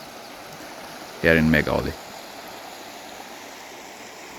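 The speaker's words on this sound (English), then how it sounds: "So as you can see, that's the river." A river flows through forest in Chitwan National Park at Meghauli on a foggy, cool morning, giving a steady, soft, distant rush throughout, with a short spoken phrase near the start.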